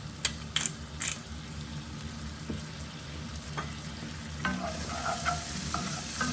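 Prawns frying in a pan for a Greek-style fava dish, with a few sharp clinks at first, then a low steady sizzle and light scraping stirs near the end.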